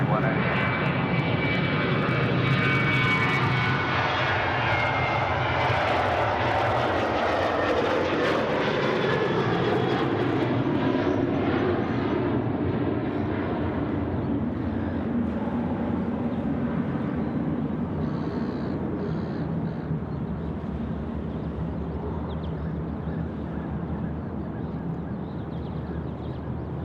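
An airliner takes off from runway 34 left at Sydney Airport. Its loud, sustained engine roar rises and sweeps in pitch as it accelerates, then slowly fades into the distance with no speech over it.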